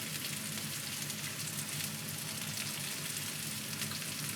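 Pork sizzles in a hot pan while yakiudon is being cooked, a steady, close, crackling hiss that holds evenly throughout with no talking.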